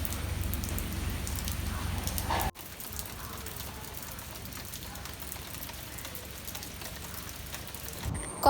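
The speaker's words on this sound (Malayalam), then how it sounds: "നാട്ടിലെത്തിയതിന് ശേഷം ആദ്യമായിട്ട് പെയ്യുന്ന മഴയാണ് ഇപ്രാവശ്യം" Steady rain falls outdoors in Kochi, a continuous dense hiss of drops that is louder at first, then settles to a slightly softer, even wash after a brief cut, with no talking.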